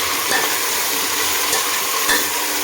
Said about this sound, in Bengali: ভালো করে এবার চিকেনটাকে পেঁয়াজের সাথে একটু ভাজবো।